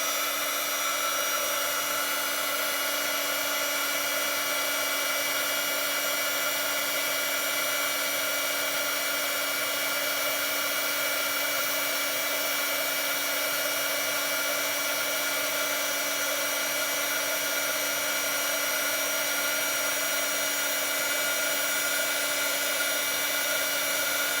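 Embossing heat tool blowing steadily over a card-making project, a constant airy hiss with a hum, close and unbroken for the whole stretch with no talk.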